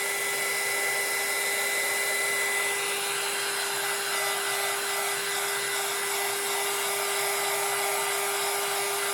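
A hair dryer blows steadily and loudly, drying a painted floral craft piece made with colour burst powders; a constant whirring drone with no pauses, running alone without talking.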